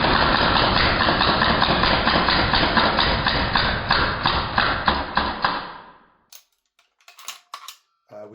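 A Northeast Mini Uzi gas blowback airsoft gun fires in full-auto bursts, a dense rapid mechanical rattle up close that stutters and fades into a few isolated clicks and clacks after the bursts stop.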